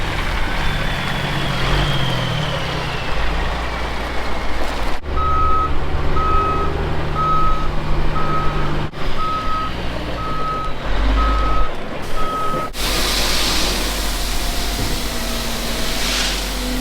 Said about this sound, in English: Well, turns out I can still drive dump truck.